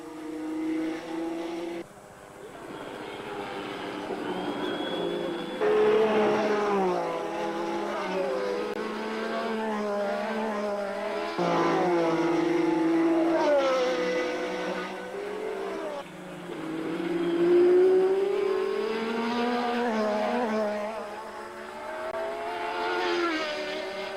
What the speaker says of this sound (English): Arnoux then takes the lead. Then Jabouille overtakes Jones.